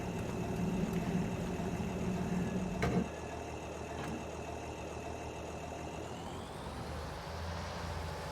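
A tractor engine in Farming Simulator 22 idles steadily, a low continuous drone with a couple of faint clicks, dropping slightly in level partway through.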